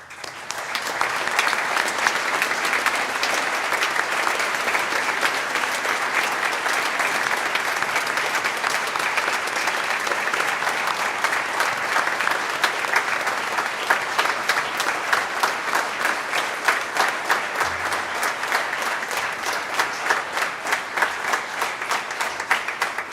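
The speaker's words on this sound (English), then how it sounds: "Would all veterans please stand and accept our applause as a sign of our gratitude" Sustained applause from an audience at a Veterans Day program, a steady dense wash of many hands clapping for over twenty seconds, loud and even, with little talk.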